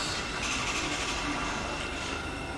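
A Thameslink Great Northern train runs through Potters Bar station, a Moorgate service passing as a Hitchin-bound train departs. A continuous loud rumble and rail roar fills the whole stretch with no pauses.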